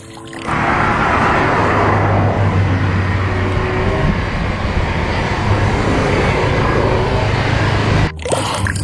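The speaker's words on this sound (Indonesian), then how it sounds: "Wih, pesawat terbang." A toy airplane sound effect gives off a steady, loud engine-like drone that holds for about eight seconds before cutting off abruptly.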